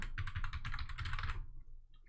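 Rapid clicking keystrokes on a computer keyboard patter close by for over a second and then stop, leaving quiet room tone, with no talk.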